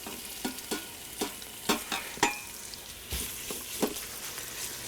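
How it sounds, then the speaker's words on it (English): Italian sausage pieces browning in an Instant Pot, a soft sizzle beneath a series of distinct scraping and tapping strokes from a utensil stirring the meat, up close. "I just need to cook it until this meat starts to brown"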